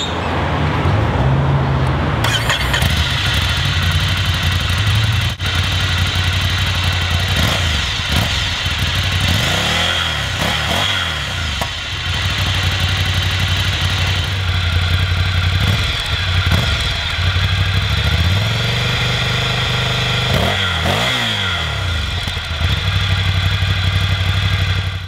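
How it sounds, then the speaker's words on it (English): An air-cooled Ducati Monster 797 motorcycle engine runs loud and close, steadily droning with repeated revving swells and throttle changes throughout, no talking. "So I'll splice that in here to give you a feel for what the Monster 797 sounds like."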